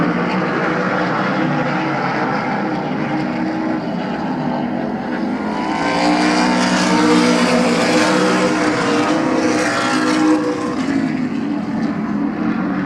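Race cars roaring around Midvale Speedway, with a steady, loud engine drone that swells as the pack passes close by and then holds on without a break.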